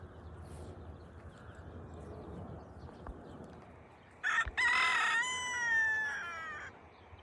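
Chickens in a rural yard with a rooster crowing loudly and close in the latter half, a harmonic cock-a-doodle-doo rising over quiet ambient clucking and background noise.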